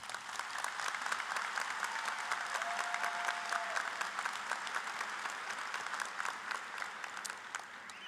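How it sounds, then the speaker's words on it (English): Sustained applause from graduates and guests at a 2024 high school graduation ceremony for the school staff, a steady dense wash of many hands clapping that continues throughout and eases slightly near the end. "please give the entire team at Seckman High School one last round of applause"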